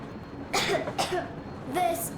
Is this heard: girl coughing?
yes